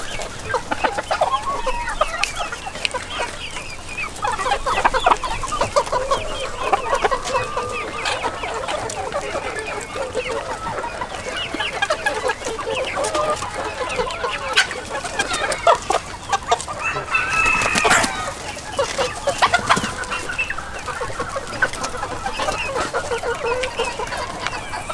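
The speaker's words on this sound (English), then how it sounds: "We're in the coop of Luigi with some blue mottled hens and his own red hens" Blue mottled and red hens cluck continuously inside a coop alongside a rooster, their busy overlapping calls close and steady, with scattered scratching and rustling throughout.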